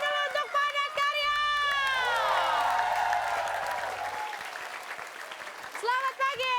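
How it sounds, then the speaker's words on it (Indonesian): Studio audience at an Indonesian TV comedy show clapping and cheering loudly, with shouts, whoops and rising whistle-like cries over the applause before it fades. "Tepuk tangan dulu untuk Padat Karya."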